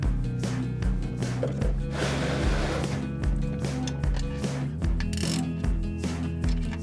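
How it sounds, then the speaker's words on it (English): A 15 mm wrench tightening the oil drain plug on a Ford Focus, heard as a steady, loud series of close ratchet clicks in an even rhythm, with no talking. "this, you do want to tighten down with the wrench. So grab your 15 millimeter."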